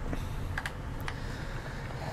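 A few sharp key clicks from a brand new computer keyboard sound faintly against a constant low hum, spaced irregularly across a couple of seconds with no voices.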